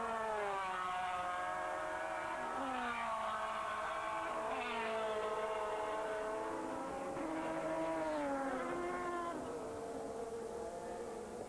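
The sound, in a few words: Ferrari 360 and Porsche GT race cars passing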